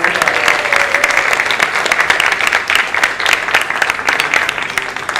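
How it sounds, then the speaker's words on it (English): A lunch crowd at a Dave & Buster's benefit event gives a round of applause for the servers, dense, loud and continuous clapping that keeps going without a break. "how about a round of applause for our great Dave & Buster servers today?"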